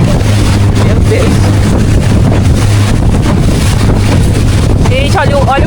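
Loud, constant wind roar buffets the microphone at a rainy wild campsite, with a steady engine hum underneath and a brief voice near the end.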